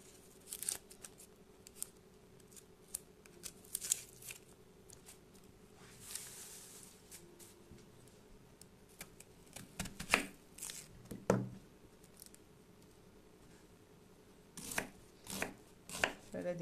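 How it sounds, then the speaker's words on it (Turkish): A knife finely chops an onion on a cutting board in scattered bursts of quick, sharp taps, with quiet pauses between runs of cuts. "bunu da ince ince doğrayacağız."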